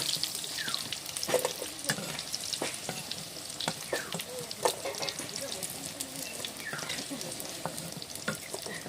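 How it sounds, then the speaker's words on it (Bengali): Potatoes frying in hot oil, a steady broadband sizzle with scattered stirring clicks and scrapes throughout, close and moderately loud, no talking. "আলুটাও লাল লাল করে ভেজে নিতে হবে"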